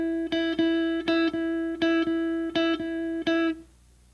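Guitar notes plucked in a swing rhythm with the second eighth note of each pair accented: about eight even, ringing notes repeated on a single pitch, each struck cleanly and close, ending with a short fade and no voices.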